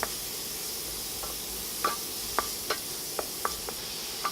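Minced onion sautéing in a pan, a soft steady sizzle broken by a handful of sharp clicks and scrapes from stirring, close and fairly quiet with no voices.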